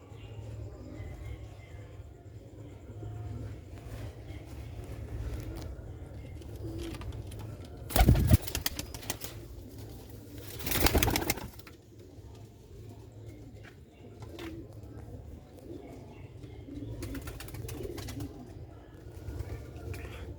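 Old-breed, black-faced Sialkoti pigeons coo steadily in low, throaty rolls throughout, broken by two brief loud rustling bursts partway through.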